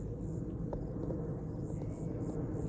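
Steady, low rumble of an airplane droning overhead of a farm near Navi Mumbai, constant in loudness throughout, with faint background noise.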